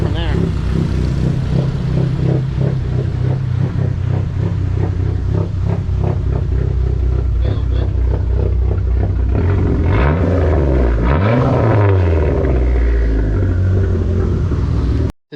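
A Dodge SRT4 runs after a tune with a loud, close rumble and throaty revs that rise and fall, and a voice speaks over the engine.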